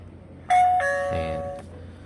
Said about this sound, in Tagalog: then tutunog yung kanyang doorbell chime